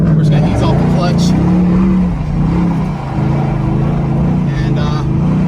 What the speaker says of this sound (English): we're going in circles right now in first gear